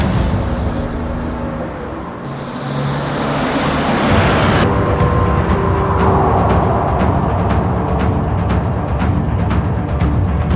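A car being driven, its engine a steady loud roar with road rumble that shifts in tone partway through and then carries on evenly with faint rhythmic ticking, and no talking.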